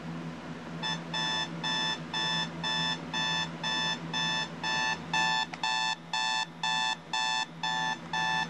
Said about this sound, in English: we'll have a listen to the alarm